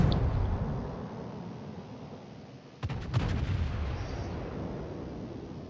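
Heavy naval shells from warships in World of Warships boom in a quick cluster of several blasts over a constant low engine-like rumble, loud and close.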